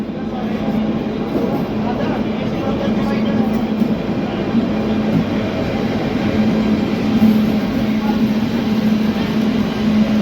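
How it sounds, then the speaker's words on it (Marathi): The 22944 Indore Daund Superfast Express arriving at platform 8 in Ujjain, a loud continuous low rumble and droning hum of the train that holds steady across the whole stretch. "आपली इंदोर दौंड एक्सप्रेस पोहोचली आहे प्लॅटफॉर्म नंबर 8 वर उज्जैनच्या"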